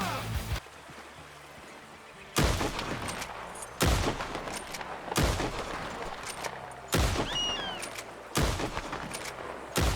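Six loud, separate rifle shots in Red Dead Redemption 2 while hunting loons on the water, each a sharp crack with a trailing echo, spaced a second or two apart, over a quiet outdoor background.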